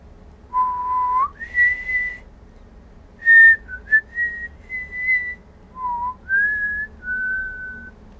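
A person whistles loud and close during Uncharted 2 gameplay, a series of clear sustained notes and short slides with brief gaps between phrases, over faint low background noise.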